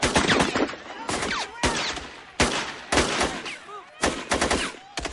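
Sniper gunfire rings out in a film scene, a series of sharp, loud shots and short bursts in irregular succession, some echoing and overlapping.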